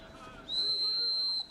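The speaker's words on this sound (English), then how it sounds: "There is a whistle." An umpire blows a single sustained whistle at a men's Premier Division field hockey match. The clear, high tone is held for about a second over faint crowd and pitch ambience.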